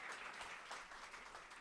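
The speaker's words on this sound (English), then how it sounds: "Y'all clap for that, man." Audience applause at a music playback event, a steady broadband wash of clapping that holds at moderate level for the whole stretch, with no voices over it.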